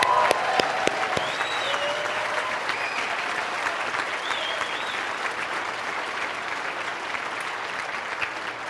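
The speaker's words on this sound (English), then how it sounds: "give yourself a big round of applause" A seminar audience gives a big round of applause, a dense, steady wash of many hands clapping that carries on for several seconds at moderate loudness, with no talk over it.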